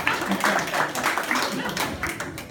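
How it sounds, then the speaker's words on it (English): Steady clapping from a group of people at a talk, fairly close, lasting a few seconds with some voices mixed in. "Let's give a round of applause for that."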